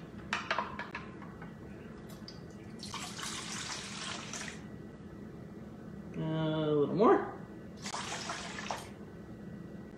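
Water is poured in short bursts into a mixing bowl for pumpkin bread, with splashing gurgles between quiet pauses, and a person speaks briefly.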